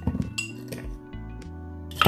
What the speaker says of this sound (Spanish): Vamos a ocupar la coctelera. Como siempre, los hielos.